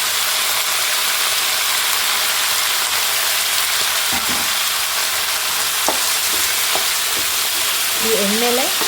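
Brinjal pieces frying in about four or five spoons of hot oil over a seasoning of tempered spices, a steady broad sizzle running throughout with a few faint clicks and stirring scrapes near the end.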